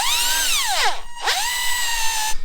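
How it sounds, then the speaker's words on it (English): A power drill bores holes for larger bolts at an off-grid wilderness cabin, whining loudly as its pitch sweeps down under load, pausing briefly, then spinning back up to a steady high whine. "I'm just drilling it here"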